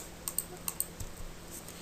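Several crisp computer mouse clicks, used to select lines one by one in a drawing program, sound as a quiet, irregular series of close taps with a soft low thump near the end.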